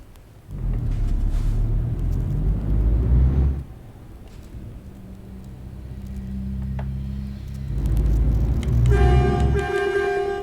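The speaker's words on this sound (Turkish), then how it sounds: "Havalı kornamız falan var." Two long, loud blasts of a deep truck air horn in Euro Truck Simulator 2, separated by a lower engine drone, with a brighter tone layered in near the end.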